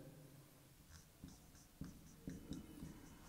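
Marker or chalk writing on a board during a chemistry lecture on redox reactions: a few faint, short scratchy strokes in quick succession in a quiet room, with no talking.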